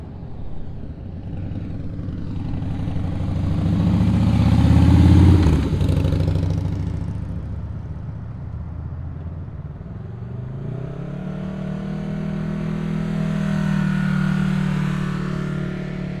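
Motorcycles at the Sturgis 2022 rally, engines rumbling close by with one bike swelling louder as it passes, then another idling and revving under a steady crowd-street background.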